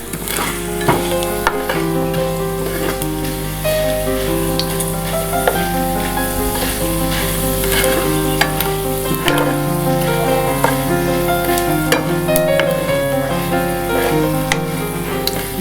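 Hot oil sizzles and crackles steadily as a garlic tempering fries for curry leaf chutney, with occasional stirring clinks, close and continuous throughout.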